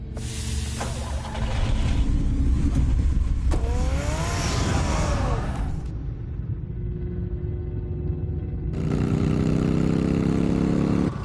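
A car engine in Batman: The Telltale Series revs and pulls away, with rising and falling whine and roar. A quieter stretch follows before the engine noise swells loud again, and no one speaks.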